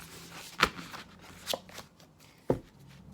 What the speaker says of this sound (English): Let's give it one more really good shuffle here.